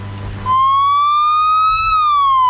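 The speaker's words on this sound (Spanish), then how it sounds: "Llega la ambulancia, que es Maglio" An ambulance siren wails loud and close, rising in a long sustained tone before starting to fall, after a brief moment of quieter background noise.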